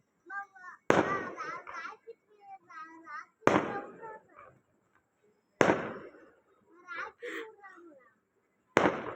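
Sharp bursts of colorful aerial fireworks at a village festival crack at intervals, each followed by crackling decay, while a child and an adult talk between the blasts.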